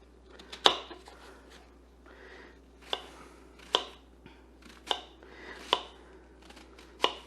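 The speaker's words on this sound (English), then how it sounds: "I'm not going to be too picky about chopping this, but I want them small enough pieces that it's going to cook well" Knife chopping peppers for stuffed peppers on a board, a series of about eight sharp, separated cuts at an uneven, unhurried pace, close and clear in a quiet kitchen.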